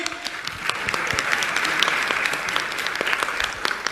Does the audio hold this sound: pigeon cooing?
no